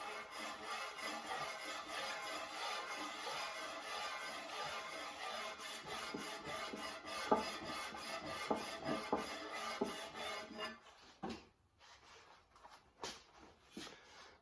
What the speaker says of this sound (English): rub it on the sandpaper, and you will very quickly see which areas are high and which areas are low